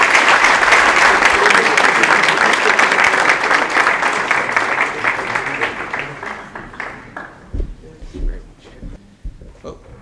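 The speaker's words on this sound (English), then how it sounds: "let's give a big roaring round of applause to Sajid Javed." Audience at an evening congress event giving a round of applause: loud, sustained clapping for about six seconds that gradually thins into scattered claps, with a speaker's voice emerging near the end.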